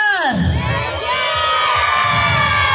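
A crowd of children shouts as loudly as they can in a shouting contest at a Christmas celebration in San Jerónimo de Chuspi, Colcabamba, a loud sustained roar of young voices.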